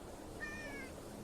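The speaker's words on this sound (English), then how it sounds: "Kitty. Just begging for attention." A single short meow from a cat sounds over a quiet background, brief and clear.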